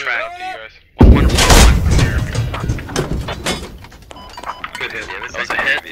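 A Leopard tank's cannon in a video game fires and strikes an enemy tank, one loud sudden blast followed by a rumbling, clanking decay, with players talking over the radio.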